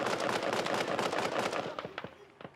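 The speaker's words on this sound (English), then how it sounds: "BOP soldiers opened fire." Soldiers open fire on a car in an outdoor street during South Africa's end of apartheid, a dense rapid burst of gunfire that thins into several separate sharp shots toward the end, loud and fairly near.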